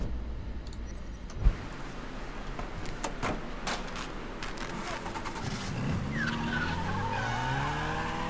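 A car in the video game Mafia 3 drives along with clicks and a sharp thump, then its tires squeal and skid as the engine revs, loud and close, with no talking.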